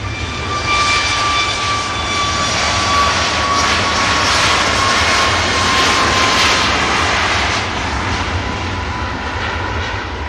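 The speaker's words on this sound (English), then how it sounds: "Ryanair Max rotates from 23 left" A Ryanair Boeing 737 MAX takes off from runway 23 left at Manchester Airport, its jet engines giving a loud, sustained roar with a steady high whine that stays close and powerful throughout.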